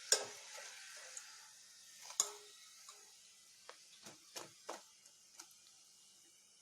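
Sweet samosa pastries frying in hot oil after turning crisp and brown, giving a quiet, steady sizzle broken by scattered light crackles and pops, close and alone with no talking.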